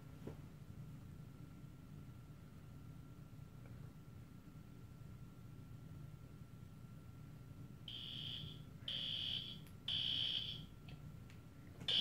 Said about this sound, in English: Then the alarm comes in.